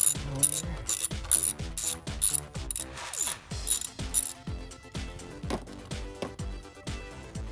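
A socket ratchet loosens an ignition coil bolt on a 2012-2016 Jeep Wrangler JK engine, giving up-close bursts of rapid clicking in repeated strokes with brief pauses between them.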